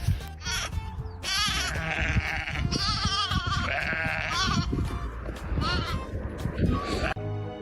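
Several loud, close sheep bleat in overlapping wavering cries during a rescue, with a few short pauses between calls.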